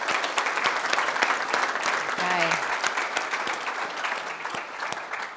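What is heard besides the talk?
audience applause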